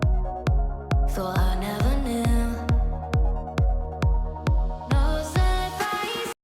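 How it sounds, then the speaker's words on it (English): A hand vacuum pump squeezes in a steady rhythm while draining clutch fluid from a BMW R 1200 RT motorcycle, each stroke giving a short mechanical pulse, with faint gurgling and hissing of fluid under it. "Now we need to drain this out, so we'll use this vacuum pump."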